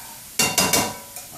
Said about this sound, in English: Get that sauteing up.